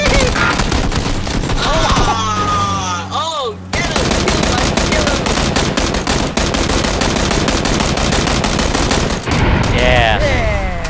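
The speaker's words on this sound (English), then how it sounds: "I almost shot Justin in the head" Dense, sustained machine-gun fire rattles nearly nonstop at close range in a multiplayer shooter battle, with rapid bursts overlapping and a brief drop around the fourth second; excited voices talk over it.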